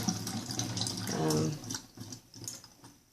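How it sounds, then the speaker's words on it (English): Soaking water is poured off a pot of beans and home-grown peas, a steady splash and trickle of liquid lasting a few seconds with some louder gushing in the middle, fairly close and alone. "So I'm just going to empty out the water."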